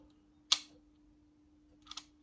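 A faulty camera shutter gives one sharp, close click, and after a pause a second softer double click as it finishes closing slowly, over near silence with a faint steady hum.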